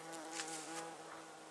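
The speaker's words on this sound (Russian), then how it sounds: "Столько пчелок, столько жужжит, шмелей, пчелок." Bees and bumblebees buzz around a blooming lilac bush, a faint, steady droning hum with several overlapping insect tones close by.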